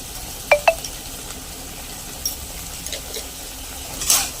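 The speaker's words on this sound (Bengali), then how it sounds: "এবার মশলাটা একটু কষিয়ে নেব।" Chili powder masala frying in a pan for pabda fish curry, with a few sharp clinks of a spatula against the pan near the start and faint, steady sizzling underneath.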